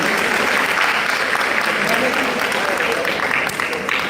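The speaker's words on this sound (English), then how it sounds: "round of applause for the Professor." An audience at an official closing ceremony in Kano State applauds a professor with dense, continuous clapping that holds steady throughout, a faint voice blending into it.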